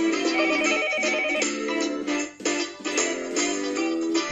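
Telephone ringing in the visual novel game Higurashi, a bright electronic ring pattern repeating in steady pulses, loud and alone with no voices.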